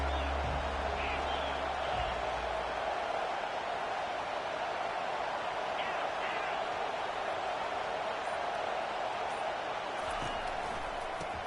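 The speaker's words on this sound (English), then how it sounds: "This crowd trying to make life miserable for this offense." A dense, steady roar from a football stadium crowd at a Buckeyes versus Fighting Irish game fills the scene evenly from start to finish, a broad wash of voices with no distinct peaks.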